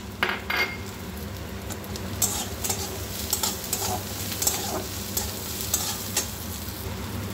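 Green chilli, cashews and melon seeds fry in a masala of paneer dopeyaza, sizzling steadily while a spoon clinks and scrapes the pan in repeated stirring strokes.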